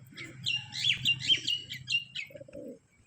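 Tom, a pet pigeon, calls in a short burst of bright chirps and warbling notes over a low cooing rumble, close and clear, ending with a brief lower call.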